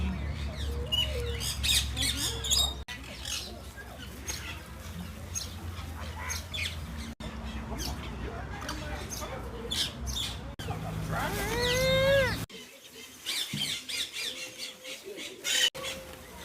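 Parrots at a Caribbean bird park on Saint Maarten let out repeated harsh squawks close by, with several loud screeching bursts. People talk and exclaim around them.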